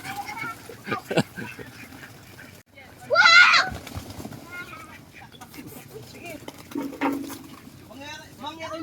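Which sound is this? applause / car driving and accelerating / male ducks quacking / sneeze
male ducks quacking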